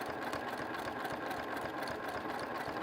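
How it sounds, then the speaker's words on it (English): A sewing machine stitching close to the edge of a fabric postcard: steady, continuous rapid needle chatter with a fine rhythmic pulse, close and moderately loud throughout. "Make sure that you're sewing so close to the edge, about a 1/16 of an inch."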